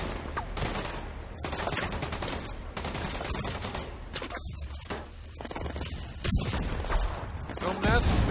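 Dense gunfire from a shooter video game, The Division 2, with bursts and rapid shots running nearly throughout under a busy mix of game effects and talk.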